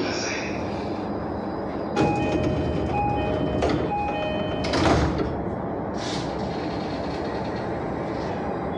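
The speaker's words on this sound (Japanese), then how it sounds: "ドアが閉まります" Inside a Japanese train at night, electronic chime tones sound as sliding doors rumble and thud shut, with a steady background hum and faint voices.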